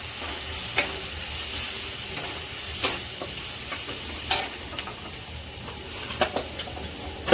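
Salt and coriander-cumin powder get stirred into a hot pan for a dry flat-bean stir-fry. A spoon scrapes against the pan every second or so, in short sharp strokes over a continuous low sizzle.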